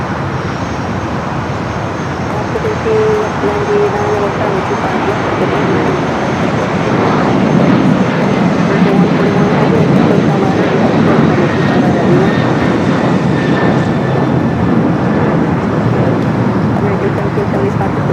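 United 777 and other airliners at LAX's south side runways, a loud, sustained jet engine roar that swells slightly midway and holds, with a voice talking over it.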